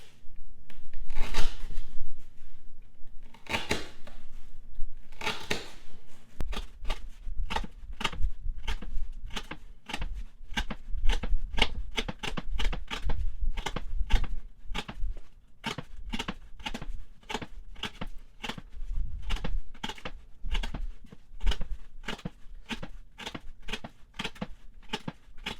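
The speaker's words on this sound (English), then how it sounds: "we're going to try to cut up some of this half-inch twisted sisal rope" Knife push-cutting half-inch twisted sisal rope, a long series of crisp rasping cuts repeating at a quick, steady rhythm, close up, with no talking over it.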